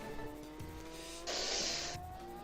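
In the video game Moto Racer, a racing motorcycle's engine whines steadily with a sharp, bright screech in the middle of the run. The sound is loud and close, with no talking.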